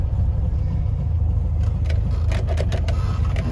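A vehicle engine runs at a steady, close idle, a deep continuous rumble with faint ticking and rattling on top, with no voices.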